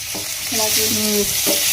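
Fish frying in a pan at home, a loud continuous sizzle with stirring sounds, close and alone.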